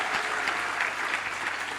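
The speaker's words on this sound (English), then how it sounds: "So big round of applause for Owen." Audience applause at a foundation forum event, dense steady clapping from a crowd filling the moment, evenly sustained without a voice on top.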